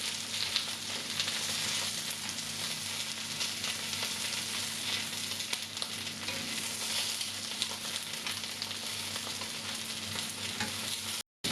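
Fennel slices frying in a pan, a continuous close crackling sizzle with a faint steady hum beneath, cutting off abruptly just before the end.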